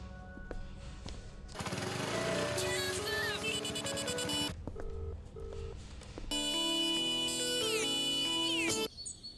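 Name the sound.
phone ringing during a call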